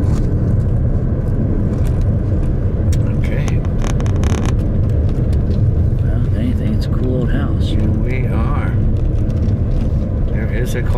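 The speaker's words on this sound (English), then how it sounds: "A car there." A car passes near a monument site in Nevada, a loud broadband road rumble sustained throughout, with people talking over it.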